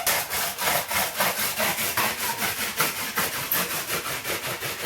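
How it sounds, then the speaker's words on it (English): Rhythmic friction of a wooden spindle spun by a shoe drill for friction fire, a steady back-and-forth rubbing with regular strokes about twice per second, close and alone without talk. "We'll go back to the shoe drill."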